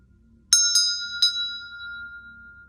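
A meditation bell is struck three times in quick succession, each strike ringing out with a clear, sustained tone that slowly fades over a quiet background, with no talking.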